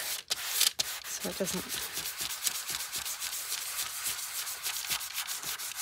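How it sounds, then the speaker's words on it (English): A fine-grit sanding block rubs back and forth over wood in quick, regular strokes, close up, with a brief spoken remark near the start. "I use my sanding block that's more of a fine"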